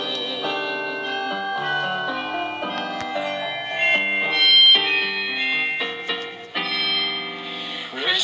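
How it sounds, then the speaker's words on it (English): Church bells or chimes ring out a sustained, layered melodic peal, loud and close, with overlapping tones continuing throughout before a choir's Christmas service music. "Church bells ring."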